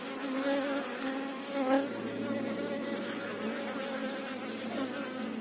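Honey bees buzz continuously around a hive, a close, steady drone that swells slightly at moments, with no talking.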